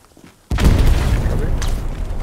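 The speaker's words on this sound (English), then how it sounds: "Wait for this satchel to go off." A satchel charge detonates on a garrison in Hell Let Loose, one sudden loud boom followed by a long rumbling tail and debris noise.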